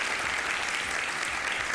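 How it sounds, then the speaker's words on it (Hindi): A studio audience on a Pakistani morning talk show claps loudly and continuously, a dense, even wash of many hands sustained from start to finish with no voices. "आपने इनके शर्मीले होने पे तालियां बजाई हैं"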